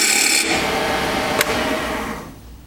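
A chunk of bocote wood is roughed down to round on a lathe with a gouge, giving a loud, steady scraping rasp that runs on and then fades away, with one brief sharp tick near the middle.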